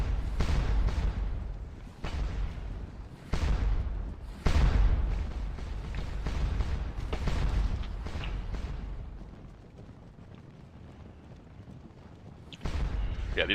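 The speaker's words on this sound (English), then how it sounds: "these guys have lost 229 men just from being bombarded on by the Allied cannons" Cannon bombardment in the battle game Scourge of War Waterloo, repeated heavy booms landing every second or so over a rumbling background, with a lull near the end before another blast.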